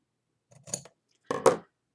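Scissors snip through material being cut to wrap around a wax burner: two short, close crisp cuts separated by a pause, the second louder, in an otherwise quiet room.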